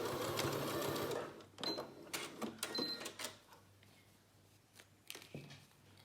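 A sewing machine stitches fabric for a face mask, with a steady whirring run at first, then several short stop-start bursts as it back tacks at the seam ends, close and moderately quiet.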